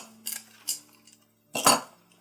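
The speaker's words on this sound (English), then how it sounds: "what I'm going to first do is get some like pliers or whatever and take the keychain part off of it" Pliers work small metal keychain parts off charms in a few short, bright metallic clinks and clicks, close and separated by brief pauses.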